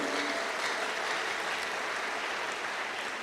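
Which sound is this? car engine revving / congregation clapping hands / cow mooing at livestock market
congregation clapping hands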